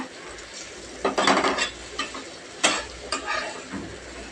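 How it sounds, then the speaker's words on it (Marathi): Whole spices roasting on a griddle for amti, with scraping stir strokes and clinks of a utensil against the pan over a faint sizzle, close and irregular. "मी तव्यावरती सर्व काही मसाले असे छान असे भाजून घेणार आहे"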